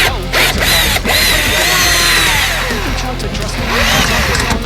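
Power drill running a screw in during work on a Firebird, a loud close whine that holds steady and pitches up and down, with a voice talking over it.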